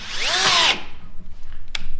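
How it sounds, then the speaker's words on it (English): Power drill boring holes for wheel bolts in a go-kart hub, a loud close whine that rises in pitch and cuts off after under a second, followed by faint clicks and handling noise. "I'm trying to drill a hole"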